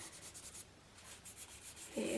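Hand sanding of a surface ahead of painting, a soft steady rubbing and scratching in repeated strokes, fairly faint and close, with a brief louder scrape near the end.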